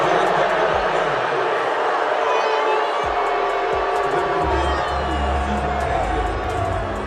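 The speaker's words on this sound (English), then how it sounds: "the crowd was booing like crazy because they all saw the same thing we saw" A basketball arena crowd roars in a dense, sustained wall of noise after a disputed foul call, booing and shouting continuously with a few dull thumps underneath.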